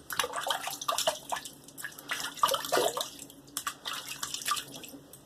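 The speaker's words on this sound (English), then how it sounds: "let me re-wet my face" Water splashes in a sink as a face is re-wet for shaving, with irregular close dripping and splashing bursts in an otherwise quiet room.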